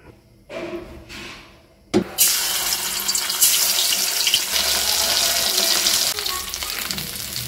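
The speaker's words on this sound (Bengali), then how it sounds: "এবার আমি কড়াইতে সর্ষের তেল দিয়ে এগুলোকে খুব ভালো করে ভেজে নেব" After a few quiet seconds and a clatter, a loud burst of hot-oil sizzling erupts as fish fry in mustard oil in a wok, continuing steadily, crackling and hissing close by.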